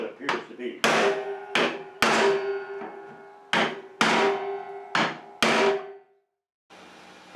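Hammer blows knocking parts out of a 1940s Speed Queen wringer washer during disassembly, about a dozen sharp metallic strikes in uneven clusters with ringing decay, close and loud, ending in a pause and a quieter patch of room noise.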